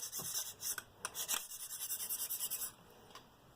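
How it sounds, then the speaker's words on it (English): A CRKT S.P.E.W knife is being sharpened on a KME sharpener, with quiet, close rasping strokes of the stone along the blade repeating in a quick, even rhythm. No one talks. "It's actually very pleasant sharpening like this"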